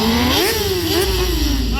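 Motorcycle engine revving during a stunt show, close and loud, pitch swelling upward then wavering steadily as throttle is held, with a faint voice underneath.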